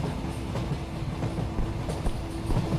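Train rolling along in a horror video game, a continuous loud rumble with faint rhythmic clacking of wheels, steady throughout with no talk.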